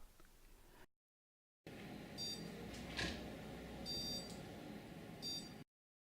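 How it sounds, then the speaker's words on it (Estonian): A receiving robot gives short electronic beeps in several small groups of one to four over a low hum, with brief silent gaps at the start and end. "Vastuvõtja robot reageerib vastavalt 1, 2, 3 või 4 piiksuga."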